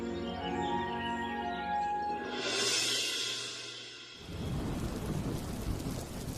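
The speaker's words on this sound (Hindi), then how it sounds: "चारों तरफ बारिश बढ़ती जा रही है" Heavy rain pours steadily while a long rolling thunderclap swells and fades in a cartoon story scene, with the downpour returning loud and close afterward and no one speaking.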